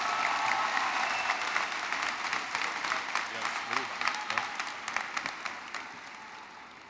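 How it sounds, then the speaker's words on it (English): Graduation ceremony crowd at a community college in Philadelphia applauding a student speaker, sustained dense clapping that gradually thins and fades toward the end. "Give a round of applause for Thomas"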